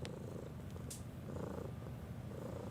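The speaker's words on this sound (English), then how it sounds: "You coming in for all the ASMR sounds of Kibble the Purr" A cat purrs close to the microphone in a low, continuous rumbling rhythm, with a couple of faint clicks and no speech.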